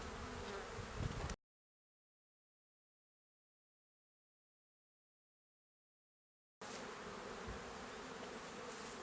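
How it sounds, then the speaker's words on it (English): Honey bees drone in a dense, continuous buzz inside an open hive during an inspection, loud and close, heard in two stretches separated by a long gap of complete silence. "these bees don't know that they're being inspected down here again"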